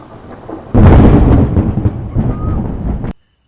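A loud rumble of thunder bursts in, rolling on with rain-like crackle for a few seconds before cutting off abruptly.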